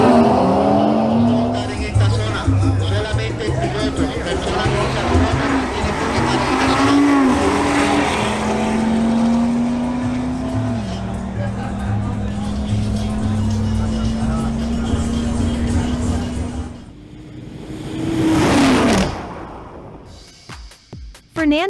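An Audi RS3 and a BMW X3 M40i drag race, engines roaring loudly through rising gear pulls with shifts before the sound fades, as a commentator talks over it throughout.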